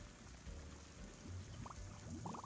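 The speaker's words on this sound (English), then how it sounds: "Whoa, that's lots of water." Water gushing from a rusty valve just tugged open in the video game Lil Gator Game, a steady rushing wash throughout with faint bubbling and splashes on top.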